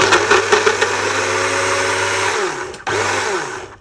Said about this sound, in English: Let's put it in and blend it. It's going to be loud.